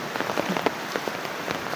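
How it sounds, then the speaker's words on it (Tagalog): Heavy rain falls steadily outdoors in a garden with dragon fruit plants, a dense close hiss with scattered sharper drop splatters throughout. "Talagang malakas ang ulan"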